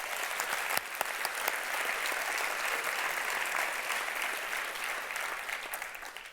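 Gala audience at the Gala des Dubuc applauds sponsoring organizations of the chamber of commerce, a steady, even sheet of clapping that holds for several seconds before fading slightly at the end.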